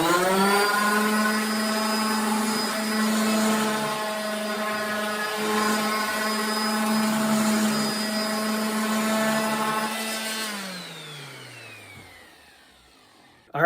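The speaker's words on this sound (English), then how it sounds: "we're going to use an oscillating tool for that. It's a loud tool" A loud oscillating multi-tool buzzes steadily at close range for about ten seconds while cutting a wood beam, then its motor winds down and stops.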